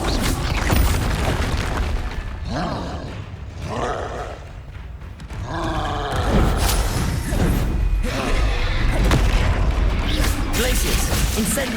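Spells fly in Hogwarts Legacy combat: repeated booming bursts, whooshes and crackling impacts, fire, ice and blasting magic, loud and busy throughout, with some voice sounds in the mix.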